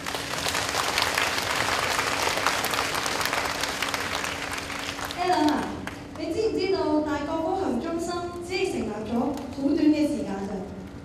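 Audience applause at a sold-out public lecture in Hong Kong, a dense steady clapping wash filling the first half, then giving way to a speaker's voice with the clapping fading out behind.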